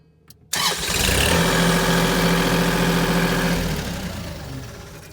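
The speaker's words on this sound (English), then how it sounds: "I'm a little concerned about my tractor smoking now." A tractor engine with 236 hours on it, showing signs of engine trouble and black smoke, cranks and fires up abruptly, then settles into a loud, steady close-up idle that gradually quiets toward the end, with no talk.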